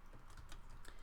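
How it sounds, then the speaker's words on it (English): Faint, quick keystrokes on a computer keyboard, entering lettering in Bernina 9 embroidery software. The clicks are light and uneven, close by, with no talking. "you can start typing"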